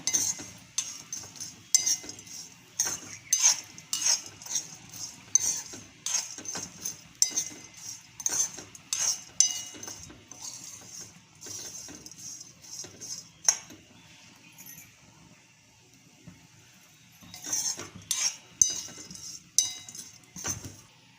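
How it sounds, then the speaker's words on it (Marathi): Sliced bitter gourd roasts in a pan, stirred with a utensil that clinks and scrapes against the metal in busy irregular bursts, with a quieter stretch midway before the scraping picks up again. "कारलं भाजायला लागलेलं आहे."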